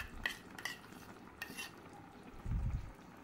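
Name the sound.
stirring yogurt and fresh cream into chicken curry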